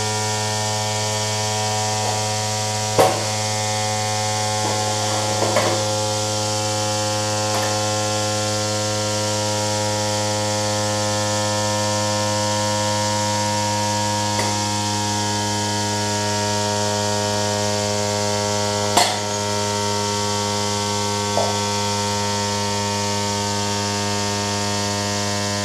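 A Black and Decker 20v battery weedeater runs steadily with a constant electric motor whine as its battery drains, close and unbroken for the whole stretch, with a few faint clicks and no voices.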